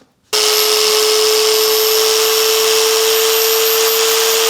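A small grinder cleans up a Chrysler 200 front passenger wheel hub, kicking in abruptly after a brief silence and then holding a loud, close, steady high-pitched whine with no pause.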